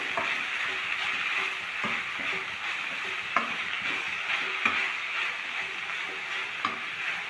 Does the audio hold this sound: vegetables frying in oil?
yes